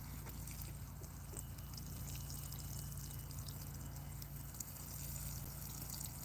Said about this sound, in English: I'm going to water it at the base, not all over the leaves